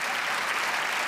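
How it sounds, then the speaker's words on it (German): A short, steady burst of audience applause fills a hall during a carnival session at Gürzenich in Cologne, many hands clapping densely and evenly, loud and close. "So ein bisschen Applaus wäre schön."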